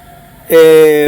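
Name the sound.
ambulance siren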